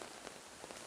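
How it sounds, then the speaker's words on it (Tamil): Heavy rain pours down steadily in Sri Lanka, a dense close hiss of drops striking surfaces with no voices. "சரியான மழை."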